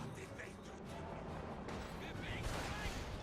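Heavy mortar fire lands in a Company of Heroes 2 match, a steady dense din of distant artillery thuds and crashes rolling under continuous battlefield noise.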